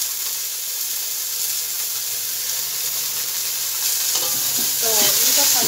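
Peas, carrot and capsicum fry in desi ghee, a loud continuous sizzle with stirring scrapes that grows busier toward the end, no talking.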